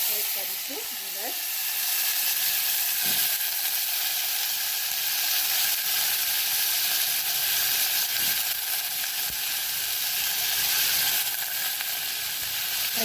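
Potatoes in hot oil with cumin hiss and sizzle loudly and steadily throughout, with some faint stirring and scraping sounds underneath and no speech.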